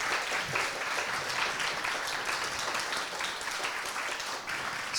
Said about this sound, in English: Can we give Andy another applause?